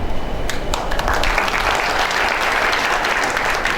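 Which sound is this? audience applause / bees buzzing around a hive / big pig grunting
audience applause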